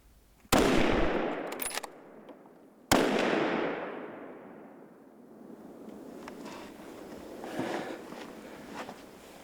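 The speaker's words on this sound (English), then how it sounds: "I thought it was better to do one more shot since he was running" Two loud rifle shots during a hunt at sunset, about two seconds apart, each a sharp crack followed by a long rolling echo across open ground, then faint rustling and movement.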